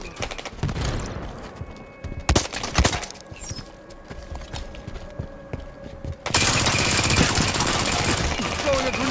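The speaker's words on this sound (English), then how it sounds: "Blue ramp is under fire!" Rapid gunfire bursts from the Halo 5 video game crackle between quieter gameplay noise, with a sharp double burst early and a dense, sustained roar of fire toward the end.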